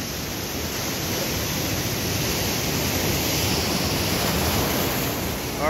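Ocean surf rolls steadily against a rocky shore, a constant loud wash of breaking waves with wind rumble over the microphone.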